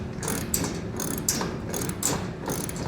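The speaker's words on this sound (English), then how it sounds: "we can just replace our bolts and tighten them down" A ratchet tightens bolts on a rear window guard headache rack on a 2021 Ford truck, clicking in repeated quick bursts with a steady mechanical rattle, close and fairly loud without speech.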